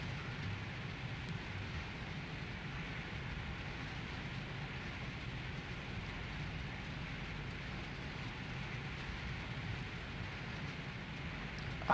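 Rain in the video game Limbo, a steady, soft, even hiss of falling water that runs unbroken throughout with no other sounds on top.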